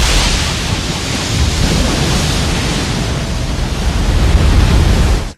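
Roaring storm at sea in a Viking film scene: a dense, steady wash of wind and crashing waves around a boat on the ocean, loud and unbroken for several seconds before cutting off abruptly.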